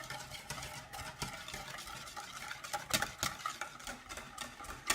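A spoon stirs Nutella muffin batter in a mixing bowl, making soft, uneven scraping and sloshing strokes in a steady rhythm. The sound is quiet and close, with no talking.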